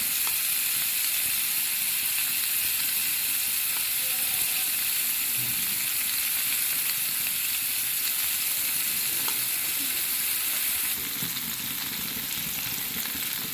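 Beaten egg sizzles and fries around pointed gourd in a pan, a steady close crackle running throughout with faint clinks of stirring and no talk.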